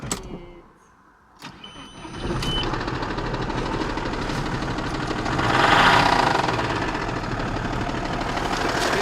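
An Audi 2.5 TDI diesel engine cranks and starts, then runs loudly with a rough, rapid knocking rattle, revving briefly midway; close by, no talking.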